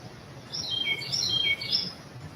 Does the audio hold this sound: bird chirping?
yes